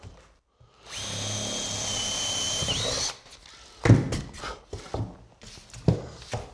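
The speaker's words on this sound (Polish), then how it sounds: "wiertło nawiercamy." A power drill bores a hole in wood for a homemade key cabinet, a steady whirring run of about two seconds up close, followed by knocks and handling clatter.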